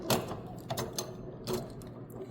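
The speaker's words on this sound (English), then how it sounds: "We're gonna put it in the vise" A workpiece set up for brazing is clamped in a metal bench vise, giving a few quick ratcheting, grinding clicks and scrapes close by over a low steady hum.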